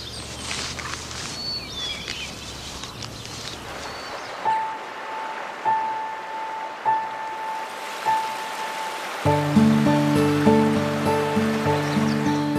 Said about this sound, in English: Water flows again at last.